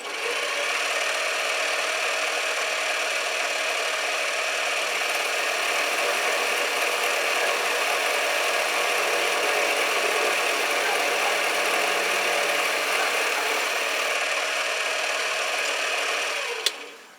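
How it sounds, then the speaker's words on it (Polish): A metal lathe turns a 12 mm workpiece under manual feed, giving a steady, loud mechanical hum and whine that runs evenly throughout without talk, ending with a brief click as it stops. "teraz będziemy toczyć i zobaczymy ile nam przybierze oczywiście na posuwie ręcznym"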